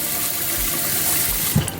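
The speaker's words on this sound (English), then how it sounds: "you just put water until it covers it" Water pours steadily into a pot of rice, a close, continuous rushing gush with a small splash near the end.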